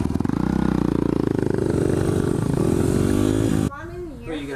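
A dirt bike engine revs loud and close in steady pulsing bursts for several seconds, then cuts off abruptly, leaving faint movement and a brief voice.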